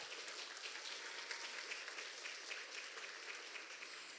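Audience applause at a children's song festival gala in a town cultural centre in Łasin, Poland, a steady patter of many hands clapping at moderate distance, continuous for the whole stretch with no speech.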